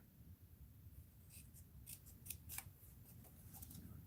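Scissors snipping a small piece of black paper in an art journal session, a few quiet crisp snips over a soft low hum.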